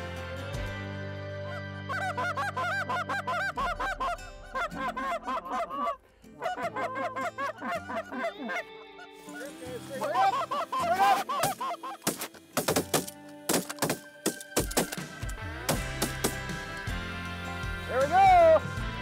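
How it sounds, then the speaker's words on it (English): Giant Rochester Canada geese honk repeatedly over decoys during a windy field hunt. The loud, near calls come in overlapping bursts that grow denser and more excited toward the end. "Had three migrators come in, worked from way up in the sky."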